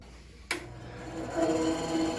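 A band saw in a workshop starts with a sharp click, then its motor hum rises into a steady whine as the blade cuts, close and continuous with no talking.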